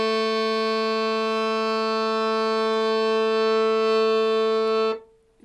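A keyboard instrument holds one sustained chord on a double 8-foot register with a 16-foot register added for a lower sound. The tone is rich and steady for about five seconds, then cuts off abruptly.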